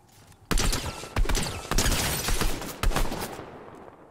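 Rapid, loud gunfire in Fortnite, with a string of sharp shots in uneven bursts over a steady roar of battle that fades toward the end.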